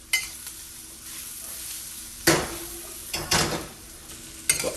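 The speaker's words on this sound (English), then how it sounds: "Stir fry this for just about 30 more seconds" Garlic stir-frying in a hot pan for salt and pepper wings, a continuous soft sizzle broken by a few sharp scrapes and clanks of the utensil against the pan, with no talking.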